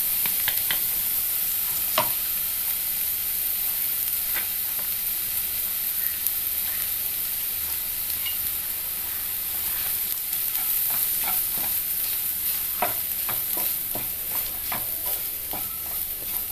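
Ground spice paste is sautéed with softened onions in a pan for a banana flower and green gram thoran, giving a continuous close sizzle with scattered sharp scraping and stirring clicks throughout.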